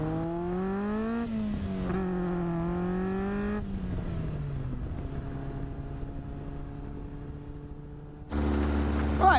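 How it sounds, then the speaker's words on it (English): An Indy R car with a 2-litre Duratec engine and Mazda NC gearbox runs nearby, its engine note rising and falling through revs, then easing to a steady idle before a sudden louder burst of throttle at the end. "we'll take it out today, we'll get it up to temperatures, and we'll see what this thing goes like"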